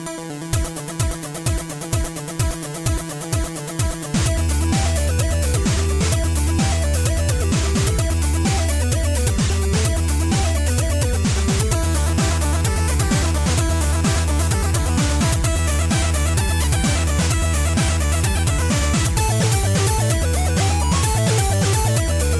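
Busy, dense video game soundtrack music with a steady driving beat and layered synth tones, playing loud and continuous after a brief rhythmic intro.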